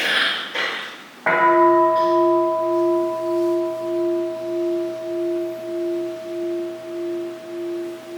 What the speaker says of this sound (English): With the sounds of the bell, we put our wholehearted attention to our up-breath.